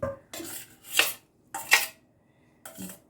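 Minced zucchini goes into a bowl in four separate bursts. Each one is a close clatter and scrape of a utensil against the dish, with short silences between.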